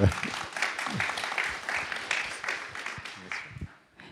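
Sustained applause from a conference audience at the JobsTIC Montpellier 2023 recruitment event fills the room steadily, with voices heard over it before it fades at the end.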